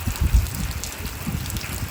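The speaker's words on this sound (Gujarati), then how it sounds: "અત્યારે હાલ પણ વરસાદ અમારી વાડીએ અમે છીએ જો હાલ પણ ચાલુ વરસાદ" Rain falls steadily on a farm, a soft continuous patter close by with a few low thumps near the start and no talk.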